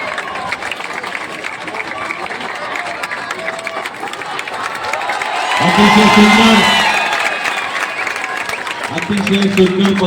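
Clapping and cheering from a festival crowd at a Dahi Handi celebration, a steady wash of applause under crowd noise, with a loud voice talking over a PA partway through.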